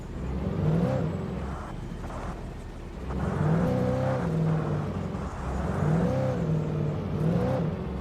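Engine of a weak car revving in Alan Wake Remastered, a steady drone that rises and falls in pitch over three sustained pushes, close and loud with no talk.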